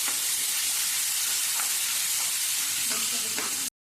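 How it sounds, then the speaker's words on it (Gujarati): Garlic-chili paste frying in hot oil with cumin and asafoetida for a desi chickpea curry, giving a steady loud sizzle and hiss with a few faint stirring clinks, then cutting off abruptly. "આપણે જીરું નાખવાનું છે, હિંગ નાખી દેવાની અને લસણ મરચાંની પેસ્ટ આપણે નાખી દેવાની। પછી એને થોડું સાંતળી લેવાનું।"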